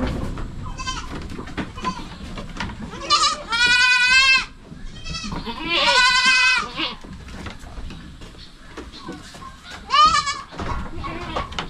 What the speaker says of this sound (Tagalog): Mga anak po sila sa ating buwer na kambing na lalaki.